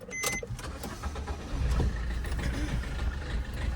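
A car being switched on on a hot day, its engine starting up and settling into a steady hum with a mechanical whir early on, heard from inside the cabin.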